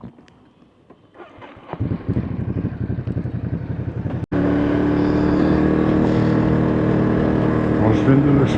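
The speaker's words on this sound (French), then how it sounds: "j'ai fait chauffer un peu la moto" A warmed-up Ducati Monster 937 motorcycle engine runs steadily with a strong low throbbing note, at first rougher and quieter with wind noise, then settling into a louder continuous hum heard close up.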